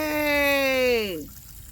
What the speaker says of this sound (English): we're gonna see did we get any water enough for it to come out.